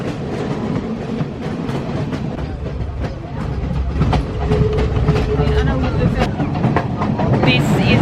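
Train running on rails in a crowded third-class compartment in Sri Lanka, with a steady close rumble and rattle of the carriage throughout, rising slightly toward the end, under passengers' voices and background chatter.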